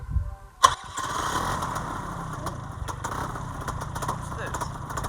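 Paramotor engine starting: a sharp pull-start jolt, then the small two-stroke catches and runs in a steady, close buzzing drone.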